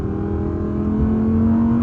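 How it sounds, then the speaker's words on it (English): An Audi ten-cylinder engine accelerates, heard from inside the car on a snowy road: a loud, close low drone whose pitch climbs steadily as revs build, with no talking over it. "this is just such a typical sound, this Audi 10-cylinder sound"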